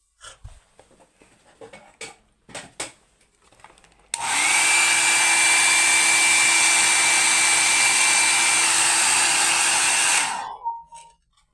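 A hair dryer runs steadily for several seconds to speed up drying of the paint on a sacred statue. Its whine is loud and close, with a few small handling sounds before and after.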